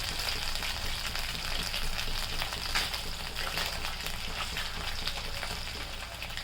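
Paneer and mixed vegetables fry in a pan with a steady, close crackling sizzle that keeps going at an even level and has no speech over it.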